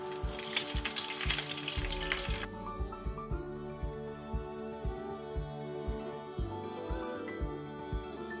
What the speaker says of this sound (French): dans une poêle sur le feu doux, je vais préparer mes saucisses avec un peu d'huile d'olive.